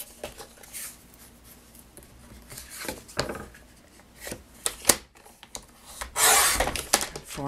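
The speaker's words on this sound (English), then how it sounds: "I'm using the rotary attachment for my trimmer to cut" A paper trimmer fitted with a rotary cutting attachment slicing through cardstock, soft scraping and rubbing strokes with a louder rasping pass near the end.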